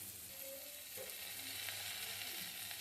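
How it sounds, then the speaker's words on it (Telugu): Soy sauce sizzling in a hot pan for a crispy corn dish gives a faint, continuous frying hiss with light stirring, heard close and without talk. "సోయా సాస్ కొంచెం వేస్తున్నానండి."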